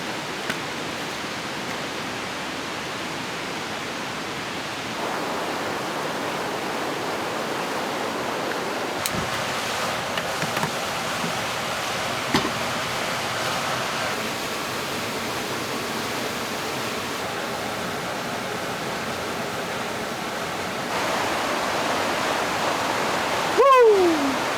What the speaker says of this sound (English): being right next to a roaring river that's just this loud for 18 hours straight